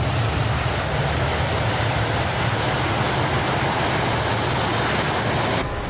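A BAE Hawk jet in Microsoft Flight Simulator spooling up for takeoff, a loud steady roar with a high whining tone rising slowly above it, continuous and close, cutting off abruptly at the end.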